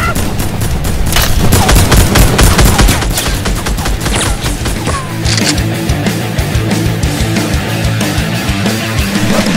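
Loud, dense gunfire rattles in a rapid fusillade from a Fortnite-style shootout, continuous bursts crowding the whole stretch with booming low end and shifting intensity, no talking over it.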